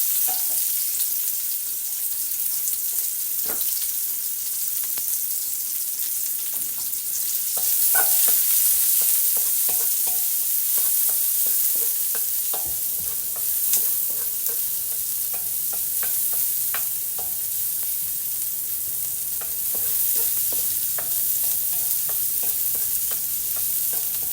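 Onions sauté in hot oil in a frying pan for pork adobo, a steady bright sizzle with scattered crackles and occasional stirring clicks, fairly close, with no talking.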